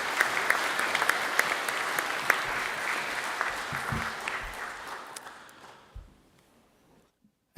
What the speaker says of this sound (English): Let's give them a round of applause as they leave the stage.